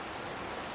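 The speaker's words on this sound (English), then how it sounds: "Rain!" Steady rain falls in an even, hissing wash of drops, soft and continuous throughout with no voices.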